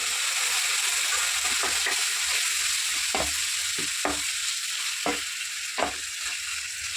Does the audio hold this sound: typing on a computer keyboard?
no